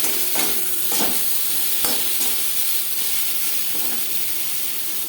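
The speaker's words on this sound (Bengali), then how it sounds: "মশলা পেঁপের সাথে বেশ ভালো করে মিক্স করে দেবো।" Spices, turmeric among them, being stirred into papaya for a papaya and pumpkin-stem curry in a pan: steady sizzling frying with several distinct scraping stir strokes, close and fairly loud, with no talk.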